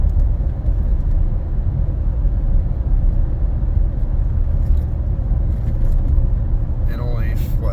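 A Ford F-250/F-350 Super Duty pickup with the 7.3 V8 engine tows a load on the road at about 55 mph and low rpm, giving a constant deep engine and road rumble while people talk over it.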